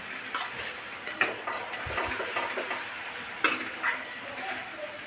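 Onions sizzle steadily in a hot pan while a spoon stirs them, with sharp scraping clinks against the metal at a few moments. The sound is close and continuous, with no talk.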